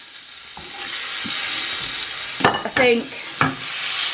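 Battered chicken pieces for homemade zinger burgers frying in hot fat in a home kitchen, a steady close sizzle throughout with a few sharper crackles and pops near the end and a brief murmured voice.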